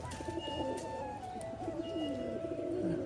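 Pigeons coo softly and steadily nearby, a low rolling call repeating without pause in an otherwise quiet setting.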